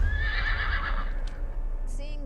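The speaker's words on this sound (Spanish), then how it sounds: "Al ver esos caballos," Horses whinny in a rocky canyon. A loud, shrill neigh rises near the start, and fainter whinnies and snorts follow.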